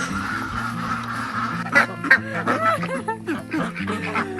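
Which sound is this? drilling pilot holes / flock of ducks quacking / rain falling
flock of ducks quacking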